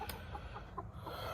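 Chickens in a coop cluck in short, soft bursts, several quick notes scattered over a brief moment, close and fairly quiet.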